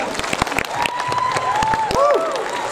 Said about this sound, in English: I like it when you clap. Clap again.